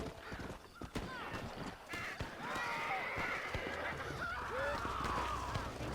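A horse in the Red Dead Redemption video game clip-clops along, its hooves close at first, then fading under whinnies and other animal calls, with someone talking.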